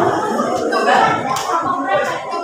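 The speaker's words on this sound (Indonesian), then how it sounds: "Silakan tepuk tangan dulu nak." Students in a classroom clap their hands in a short burst of dense, fairly loud clapping, with voices and chatter mixed in.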